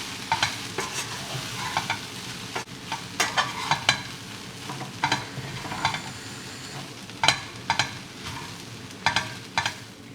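Red poha for aval upma is stirred and mixed in a pan, with repeated scraping and tossing strokes in an irregular rhythm over a soft, steady sizzle, close and clear.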